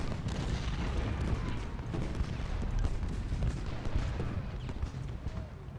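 Artillery fire in the Civil War strategy game Ultimate General: Gettysburg: a continuous din of distant cannon booms and scattered musket cracks rolling irregularly under a low battlefield rumble, moderately quiet, with no talk.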